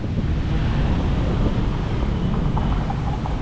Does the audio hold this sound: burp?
no